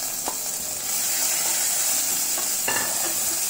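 Green chili paste sizzles steadily in hot oil with curry leaves and cumin, a close, even frying hiss broken by a few soft clicks of a spoon, no voices.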